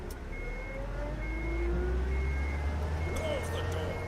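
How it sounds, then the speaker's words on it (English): A truck engine idling and running in the video game UnMetal, a low steady rumble with a slight rise partway through, mixed with faint game background tones and no talking. "Crap, they started the engine."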